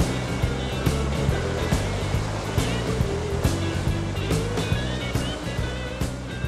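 Ocean surf rolling and breaking at a river mouth, where a standing wave forms. The roar is a dense, continuous wash, loud and close, with no voices over it.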